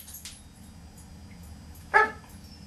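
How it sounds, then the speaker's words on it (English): A pet dog gives a single short, sharp bark indoors after a quiet stretch, fairly close, against a low background hum. "He's just a dog, and we like our dogs kind of natural."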